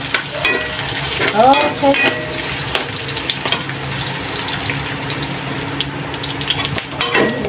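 Hot oil sizzling in a pan while aromatics are sautéed for pancit canton, a loud continuous crackling fry with stirring scrapes and a brief spoken word.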